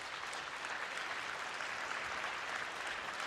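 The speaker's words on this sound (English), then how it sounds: "So please clap for Mr. Orcutt" Audience applause for Mr. Orcutt at a high school orchestra club event, a steady, dense wash of clapping hands lasting throughout, even and sustained without voices.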